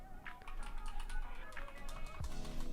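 Computer keyboard typing while playing the video game Date with Death, a quick, continuous patter of close, soft key clicks with no talk.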